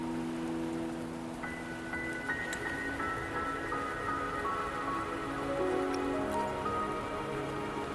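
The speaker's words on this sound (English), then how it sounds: "the rain won't last much longer" Steady rain falls in the video game Wuthering Waves, a constant dense patter close around, with soft tonal game music drifting underneath throughout.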